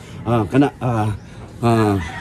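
Three or four harmonic gamecock crows ring out close by in the early morning, each rising and stretching, with short pauses between them.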